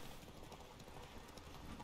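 Horse hooves galloping in The Witcher 3, a quiet, steady rapid clip-clop with a faint background bed and no talking.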